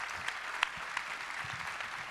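An audience at a Robert Kirkman masterclass claps in a moderate, even patter, with a few sharper individual claps standing out near the start.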